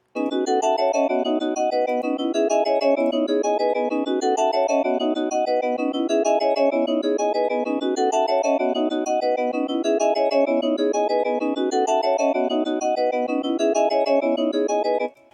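A bright synth melody chopped into even per-beat slices by a slicer plugin, repeating a stuttering pattern steadily at constant volume until it stops abruptly.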